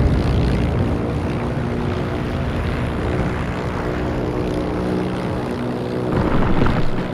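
A propeller warplane in the game Heroes & Generals drones steadily in flight, its engine a continuous buzzing hum that holds throughout without talk.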